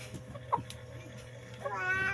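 A chicken with eye worms gives a short strained call near the end, with faint clucks and scuffling before it, quiet and close, as drops are put in its eye.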